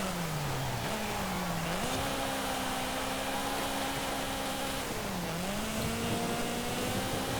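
A 1972 Reliant Supervan III with extreme power in Forza Horizon 5 accelerating hard, its droning engine note climbing through gear shifts with steady, sustained revs and no talking.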